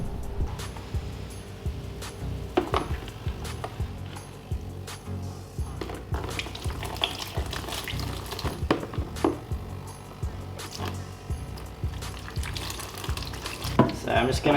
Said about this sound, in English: I'm going to give the heater and the air stone a quick rinse with my water that I already use in my fish tank.